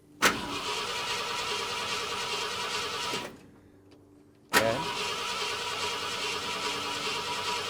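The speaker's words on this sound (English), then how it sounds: "go ahead and crank it" A 1972 Ford F250 with a rebuilt carburetor and new fuel pump cranks without starting, a steady rapid starter whir for about three seconds, a short pause, then a second long cranking run, close and loud with no talk.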